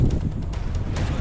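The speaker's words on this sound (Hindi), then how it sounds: "तूफान के आने से पहले ओडिशा में तेज हवाएं चल रही हैं" Strong gusting wind ahead of Cyclone Yaas in the Balramgarhi area of Odisha, a loud, rough rumbling roar buffeting the microphone continuously, with no voices.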